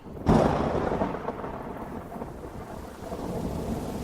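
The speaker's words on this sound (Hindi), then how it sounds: "तूफान कहाँ से आ गया?" A sudden thunderstorm breaks with a loud crack of thunder that rolls on under a steady wash of heavy rain, all close and enveloping with no voices.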